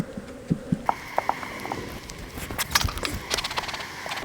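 Honeybees hum and buzz around an open hive during a beekeeping inspection, a steady close drone broken by a few sharp knocks and scraping clicks from frames and tools.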